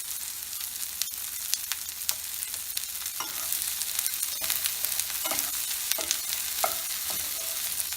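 Okra sizzles in a pan as bhindi masala cooks, a steady broadband frying hiss with occasional stirring scrapes and small pops, close and moderately loud, with no talking.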